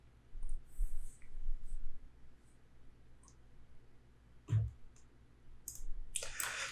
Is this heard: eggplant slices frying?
no